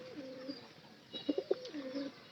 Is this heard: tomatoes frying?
no